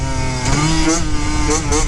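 A Yamaha YSR50 mini bike with an upgraded exhaust and carb revs hard and climbs through the gears, its loud, raspy engine droning close by under a voice talking.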